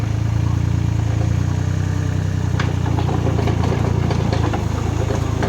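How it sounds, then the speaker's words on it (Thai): A mini excavator's diesel engine idles steadily up close, a low constant rumble with faint mechanical clanks toward the end. "นี่สตาร์ทเครื่องขึ้นก็ทำงานเลยครับ"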